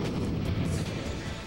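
A five-way gun firing in Custom Robo, a dense burst of booming blasts and pops packed close together, loud and continuous across the short stretch, no talk.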